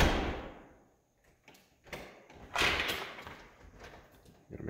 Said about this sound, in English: Gotta make sure I lock the door here.